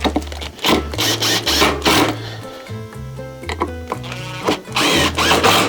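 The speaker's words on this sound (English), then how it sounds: "Then I'll stop the core drill from dancing around too much." Core drill cutting a hole through kitchen wall tile, a loud, continuous grinding whine with shifting pitch that stays close and steady throughout, without talk.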